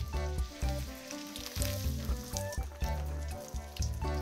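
A pork loin tonkatsu cutlet fries in hot oil at an autumn campsite, giving off a steady close-up sizzle and crackle with no talking over it.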